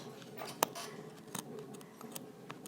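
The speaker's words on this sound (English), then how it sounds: "We're now cutting this part open here in the middle. Probably easier with scissors." Scissors cut open blazer fabric through the middle of a double jet pocket, giving a few quiet, crisp snips with one sharper close cut, set against a soft room background.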